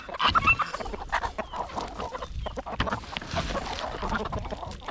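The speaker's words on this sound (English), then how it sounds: "Now we have about 50 chickens on this property, give or take, layer chickens." A flock of around fifty layer chickens on a farm, clucking and squawking in a dense, busy chorus that carries on without a break, with scattered sharper calls over a constant background murmur.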